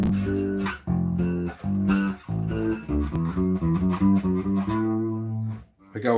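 An electric guitar played through a rack-mount effects unit plays a melodic phrase of short, articulated notes with a processed, effected tone, loud and close.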